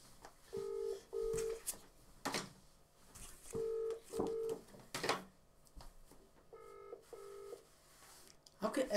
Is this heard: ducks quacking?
no